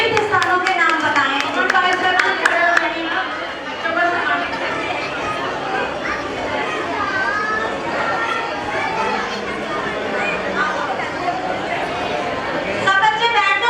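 Applause from a gathering of children and adults at an evening quiz session in a Jain temple. Dense, loud clapping mixes with chatter and voices for the whole stretch and never fully dies down.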